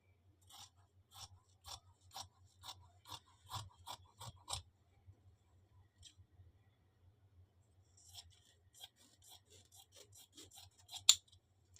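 Scissors snip through blouse front fabric in quick, evenly spaced cuts, a run of crisp close snips, then a short pause and a second, lighter series of cuts; quiet and with no talking.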